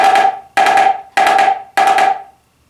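Four evenly spaced bursts of rapid drum strokes, each a quick roll of bright hits that rings briefly before the next, played close and loud.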